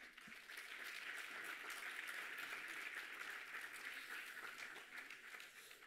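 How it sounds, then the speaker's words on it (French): Steady applause from an audience at a national awards ceremony honouring teachers: dense, even clapping that sounds somewhat distant and fills the whole stretch without a break. "on peut applaudir tous les enseignants aussi"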